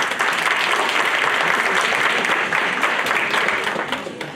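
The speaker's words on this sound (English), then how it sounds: "please give yourself a round of applause" A room full of participants at a readathon applauds themselves, dense continuous clapping at a strong level that holds steady and tapers slightly at the close.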